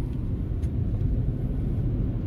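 A car engine on a driving-school lesson drones as a steady, low rumble from inside the cabin, even and unbroken throughout.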